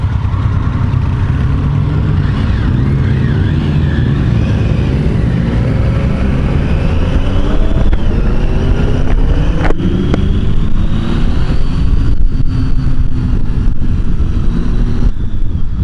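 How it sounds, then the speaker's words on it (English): A Triumph Tiger 800XC adventure motorcycle engine runs continuously, revving up and down through the midrange, loud and close throughout. "She kind of revs a little bit like a sport bike."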